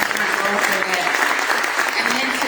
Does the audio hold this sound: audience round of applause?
yes